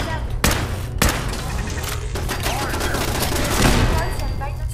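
Turret gunfire in Fallout 4 bursts out in loud, dense volleys with sharp shots at the start, then a sustained rattle of fire running through the whole stretch, with a faint voice underneath.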